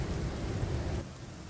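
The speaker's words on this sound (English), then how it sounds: "Rain is almost done" Rain and a rumbling thunderstorm in the Icarus survival video game, a dense, steady wash of rainfall with deep low rumble that drops slightly in level after the first second; no talking.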